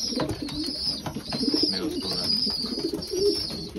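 Racing pigeons coo softly and repeatedly during breeding season, close by, over a busy background of fluttering and faint chirps of young birds.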